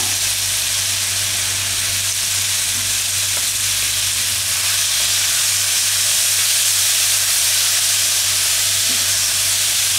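Spices tempering in hot oil for chhole, a steady broadband sizzle and hiss that runs unbroken and fairly loud throughout, with a low steady hum beneath and no talking.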